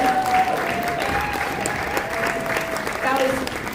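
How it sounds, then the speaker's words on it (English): A street theater audience at a Lower East Side arts festival breaks into sustained applause, a dense, steady roar of many clapping hands with a voice speaking over it throughout. "Let's give them another round of applause"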